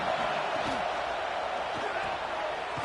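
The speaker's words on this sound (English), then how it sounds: "This crowd bringing the energy and noise early." Dense, steady roar from a Kentucky football stadium crowd fills the whole stretch at constant loudness, with a commentator's voice faintly riding over it.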